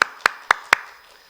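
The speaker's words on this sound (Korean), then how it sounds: "우리 환영의 박수" Four sharp, evenly spaced hand claps in a church service, crisp and close with a short decay after each, then quiet.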